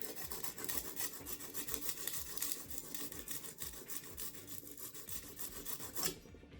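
A knife is sharpened on a brick with rhythmic scraping strokes, a gritty rasping back-and-forth repeated about a dozen times at close range, fairly quiet, with no talking.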